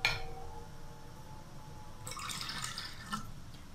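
Water is poured into a cooking pot of vegetable pulao with chicken stock cube, a quiet continuous splashing that grows brighter halfway through, with a small clink, no speech.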